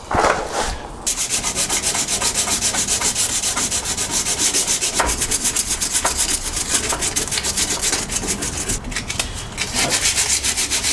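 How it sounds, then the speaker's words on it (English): Rusty bodywork under the fuel filler cap of a MK2 Golf is sanded by hand, a loud, close, continuous rhythmic rasping scrub with brief pauses, and no talking. "That's all roughed up nicely, isn't it?"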